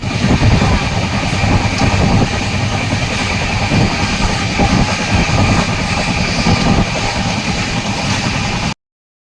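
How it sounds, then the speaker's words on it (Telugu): A passenger train pulling out on the way to Tirupati, a loud continuous rumble and rattle of rolling wagons heard up close that keeps steady and then cuts off abruptly. "ఫ్రెండ్స్ మన ట్రైన్ వెళ్ళిపోతుంది మేము వచ్చిన ట్రైన్ వెళ్ళిపోతుంది"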